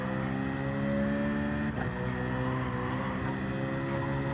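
Race car engine droning steadily with harmonic whine while the car runs over curbs at Dragon Trail in Gran Turismo 7, a brief rattling bump near the middle, continuous and loud with no talk.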